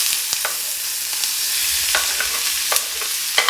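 Onions sautéing in ghee in a pan, a dense close sizzle with scattered sharp crackles and stirring scrapes, no talking.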